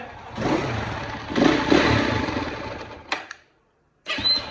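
A dirt motorbike in Nepal, hard to start on a cold morning, is kick-started: a rough engine churn and rev runs about three seconds, cuts out, then short bursts return.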